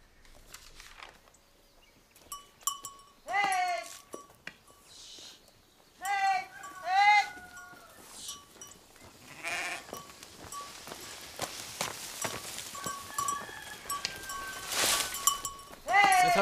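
Sheep bleat repeatedly at close range, wavering cries with clinks and footsteps between them, while people talk over parts of the scene.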